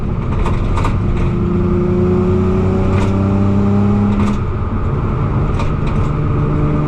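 An Impreza with a swapped EZ30R flat-six revving, engine tones rising and sweeping through the rpm range in repeated pulls, loud and close inside the car with a constant rumble underneath and no talking.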